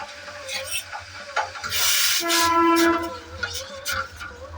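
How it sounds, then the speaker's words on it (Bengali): A train rolls past on a rail line right beside a house, its rumble steady and close with a loud horn-like tone swelling in the middle; someone talks briefly. "এই দেখো, চলো ট্রেন যাচ্ছে দেখাই।"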